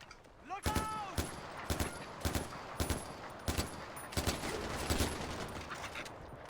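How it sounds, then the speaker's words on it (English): Rapid bursts of gunfire from Far Cry 4, a string of sharp loud shots in uneven clusters across the whole stretch, with a voice heard briefly near the start. "Are they shooting through me to get to it?"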